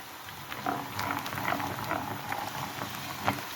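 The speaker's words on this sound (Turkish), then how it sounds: "Tavamıza aldığımız soğanımızı kavurmaya devam ediyoruz." Onions sautéing in a frying pan for a green lentil and bulgur pilaf give off a steady, close sizzle with soft crackles and pops throughout, no voices.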